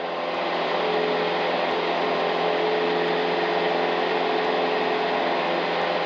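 Cessna 172M engine running at about 2,500 RPM during a climb, a steady loud propeller drone with constant pitch heard from inside the cabin.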